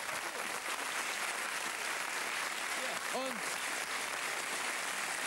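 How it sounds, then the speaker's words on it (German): Dense, steady studio audience applause on a 1988 German TV variety show, filling the whole stretch at an even level, with a brief voice rising out of it near the middle. "Applaus für diese beiden"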